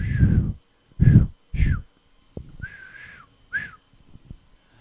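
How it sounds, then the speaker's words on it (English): A person whistles a few short, wavering notes in uneven bursts, close and moderately loud, with low breathy thumps and faint handling noise between phrases. "I don't know how to whistle that well."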